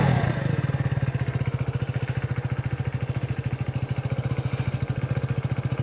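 A motorcycle engine started with a red ignition button settles into a steady idle of rapid, even thumping pulses. It is close and loud throughout, with no talking.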